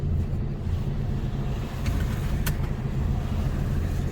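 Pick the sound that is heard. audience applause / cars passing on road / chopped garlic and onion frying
cars passing on road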